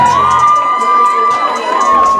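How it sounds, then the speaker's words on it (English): A loud crowd cheers and shouts continuously at a homecoming court entrance, with high children's and teens' voices and a sustained whistle-like squeal over the roar. "the onlooking crowd cheered"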